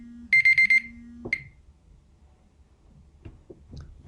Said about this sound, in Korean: 이게 전화가 아니고요. 알람.